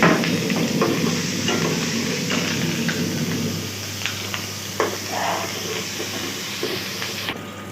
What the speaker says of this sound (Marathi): तेलमध्ये फ्राय करावं लागते चांगल्यानं।